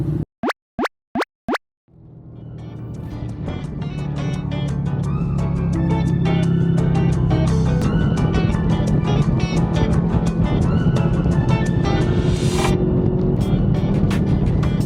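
Wind rushes past a motorcyclist riding on a road in Gangwon Province toward Yangyang behind a yellow Vespa. A few sharp clicks come first, then a loud, steady rush of wind over engine drone swells and holds.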